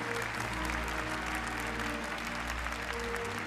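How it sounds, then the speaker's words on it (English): Steady applause from the crowd at a Gran Turismo World Series Nations Cup awards ceremony in Fukuoka, a dense, even wash of clapping that holds at constant volume throughout, with no voices over it. "Paul Ura being congratulated by the crowd."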